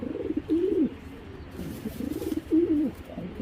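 White racer pigeons, a pair, coo close by in repeated throaty rolling bursts, several soft warbling calls over a quiet background.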